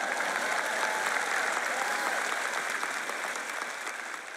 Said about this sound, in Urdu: اب آپ تالیاں اور شور مچا سکتے ہیں